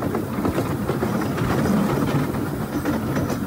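Rattling steadily along aging rails, the old mini train in Wulai, Taiwan gives a continuous close rumble with clattering wheel noise. No one speaks over it.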